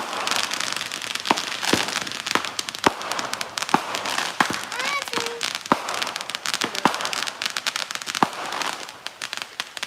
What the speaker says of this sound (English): So their projectile fireworks are being hampered by the rain.